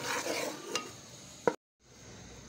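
Gram flour dry-roasting in a pan for besan barfi, stirred with steady scraping and a soft sizzle, one sharp clack of the spoon near the end before a brief silence and a return of the faint hiss.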